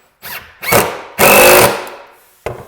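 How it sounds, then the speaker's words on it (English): A power drill drives 1.25-inch wood screws into boards for a window-seat toy box, heard as several short loud whirring bursts, the longest lasting about half a second, close to the microphone. "I'm putting 2 screws in each one of the boards, 2 wood screws."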